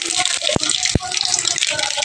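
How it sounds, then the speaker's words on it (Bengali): Panch phoron spices hit hot mustard oil in a wok and crackle and sizzle loudly up close, a dense frying hiss with a couple of sharp pops. "এবার কিছুটা পরিমাণে পাঁচফোড়ন দিয়ে দেবো।"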